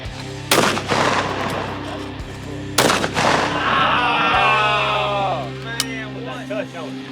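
Two loud, close gunshots ring out a couple of seconds apart during a deer hunt in Alabama, each with a long echoing tail, while people talk quietly between and after the shots.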